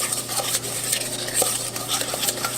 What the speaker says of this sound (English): I'm going to add my olive oil to that, and I'm going to slowly stir it, making this marinade into somewhat of a paste.